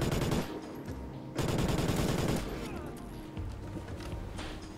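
Automatic gunfire in a gun game match, loud rapid bursts of fire in two or three sustained strings with brief pauses between them.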